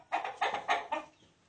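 A chicken gives four quick, close clucks in an even rhythm, loud and clear with no other sound.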